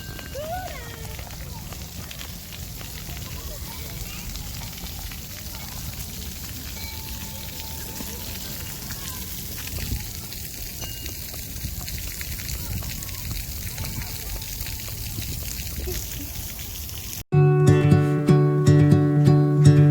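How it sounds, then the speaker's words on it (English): Rain falls outdoors with a steady, even hiss that runs unbroken for most of the stretch before cutting off abruptly into a different, louder sound. "So it started raining."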